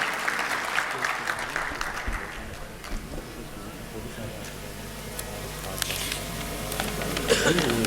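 Audience applause at a mushaira poetry gathering in Sargodha, a broad wash of clapping for the poet that swells and fades across the stretch, with some background voices mixed in.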